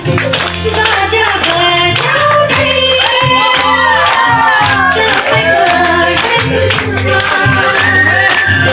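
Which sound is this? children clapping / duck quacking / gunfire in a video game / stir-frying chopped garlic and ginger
children clapping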